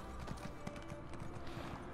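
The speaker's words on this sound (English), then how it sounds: "Get the horse out." A horse's hooves clip-clop in a steady, quick rhythm in the video game Elder Scrolls Online on PS4, close and continuous with no talk.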